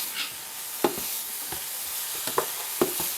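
Whole egg mixture cooking in a pan on the stove, with a soft steady sizzle broken by a few sharp utensil scrapes and taps, heard up close and without speech.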